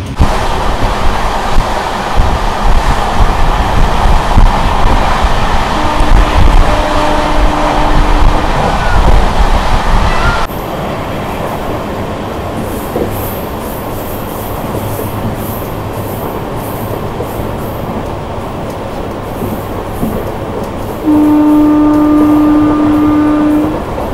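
An Amrit Bharat Express passenger train running between Erode and Jogbani rumbles steadily on the rails in its initial acceleration, a loud continuous roar of wheels and carriage noise that eases to a quieter, even hum partway through.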